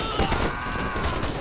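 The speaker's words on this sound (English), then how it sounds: "Our guys just got a tremendous amount of fire there" Heavy gunfire from a Call to Arms multiplayer battle, a dense fusillade of overlapping shots and bursts rolling continuously without pause, loud and close.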